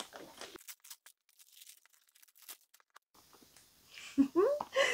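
Crinkling and tearing of Christmas gift wrapping paper in short, irregular bursts, close by, with a brief voice near the end.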